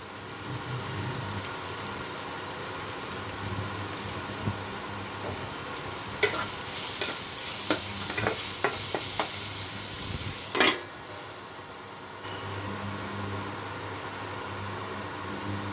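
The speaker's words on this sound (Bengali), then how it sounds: "এটা ভালো মতো ভেজে নিতে হবে" Vegetables for a chatpata sabudana dish fry in a pan with a steady, close sizzle, while a utensil stirs and scrapes in a cluster of sharp clicks midway. No one speaks.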